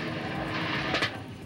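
Helicopter heard in a recording made during an escape from a high-security prison, a faint, distant steady whirring engine drone with a brief swell near the end.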